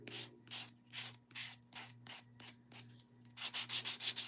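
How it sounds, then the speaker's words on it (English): Hand sanding the painted wood of a dough bowl: about ten rhythmic back-and-forth scrubbing strokes, close and clear, speeding up into quicker, harder rubs at the end. "So you may have to sand to get it smooth again."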